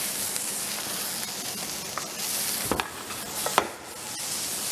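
Onion sautéing in a pan makes a continuous, moderately loud sizzle, close by, with a few brief clinks and stirring scrapes near the end.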